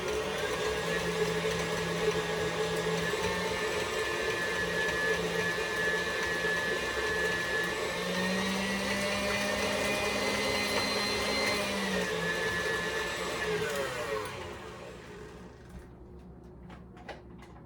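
A stand mixer whirs steadily and loudly for most of the stretch while mixing blondie batter, its motor drone holding constant before winding down and stopping near the end, leaving quiet room tone.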